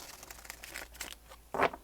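Tarot cards being shuffled by hand at close range, soft papery riffles and slides ending in a brief, louder flurry of card noise.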